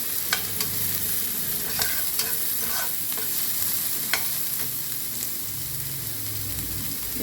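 Chopped onions, one and a half of them, sizzle steadily in hot oil in a pan, with light scraping taps from a stirring spoon scattered through a continuous close frying hiss, no voices.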